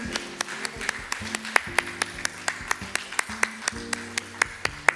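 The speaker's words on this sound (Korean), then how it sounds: "큰 박수로" A church congregation at a Sunday service claps in a steady, even rhythm, with many hands beating together at a brisk pace while a sustained low tone, likely an organ or keyboard, holds underneath.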